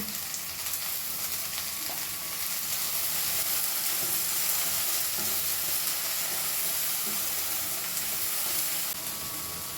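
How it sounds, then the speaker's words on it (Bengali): Vegetables with turmeric and salt fry over medium heat in a pan, a steady close sizzle and hiss throughout with faint stirring scrapes, no talking. "আঁচটাকে কিন্তু মিডিয়াম রেখে ভাজতে হবে, একদম বাড়ালে চলবে না, তাহলে কিন্তু পুড়ে পুড়ে উঠবে।"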